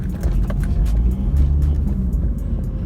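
Lexus IS300 with an upgraded exhaust accelerating on a rough street, a loud, close, continuous low engine rumble heard from inside the car, steady throughout with no talking.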